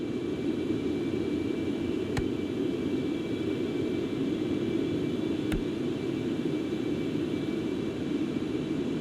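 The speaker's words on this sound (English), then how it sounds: "let's bring the speed back, or bring the throttles back slowly" Concorde jet engines winding back on throttle in a flight simulator, a steady broad roar with constant rushing noise throughout, interrupted by two sharp faint clicks.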